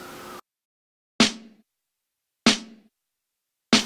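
A single layered snare drum sample, the lower-pitched of two, triggered in Ableton Live: three sharp, close cracks with a short ringing body, spaced about a second and a quarter apart, following a burst of music and with silence between hits.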